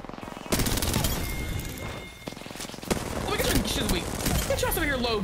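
Automatic weapon fire in Apex Legends, the battle royale shooter: a sustained volley of sharp, rapid shots after a brief lull, a short pause, then more bursts, with a player talking over the later shots.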